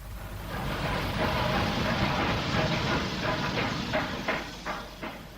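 A radio drama station scene with a train rumbling steadily at close range, a broad continuous roar with faint rhythmic clatter building toward the end.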